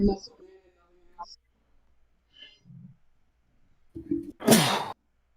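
A single sharp, loud sneeze bursts out near the end, preceded by scattered quiet voices and faint talk from a person nearby.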